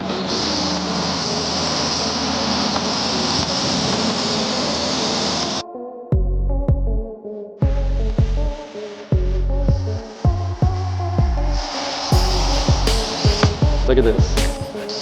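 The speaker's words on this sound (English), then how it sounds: "Push this out, start foaming down the car." A car wash foam sprayer coats a Mercedes GTC with foam during a full detail, a loud, steady hiss for about five seconds. Irregular, choppy sounds follow.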